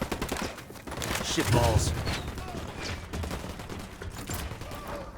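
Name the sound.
gunfire from the video game Ghost Recon: Wildlands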